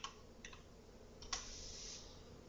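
A few light, scattered computer keyboard clicks, faint and close against a steady background hiss, no talk.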